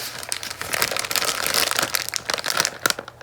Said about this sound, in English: Listen to the paper bag.